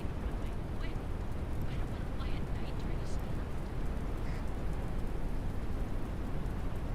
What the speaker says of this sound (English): And it's raining because she literally just said she's not landing in a storm.